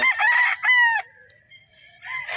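A White Kelso gamefowl rooster crows at close range, two loud harmonic bursts followed by a quieter pause and a third crow starting near the end, with no talking.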